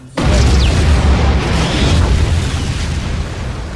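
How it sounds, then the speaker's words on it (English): A loud, booming explosion sound effect plays as a stream alert, hitting abruptly and then rolling on as a long, rumbling roar that slowly fades. "Thank you for the explosion"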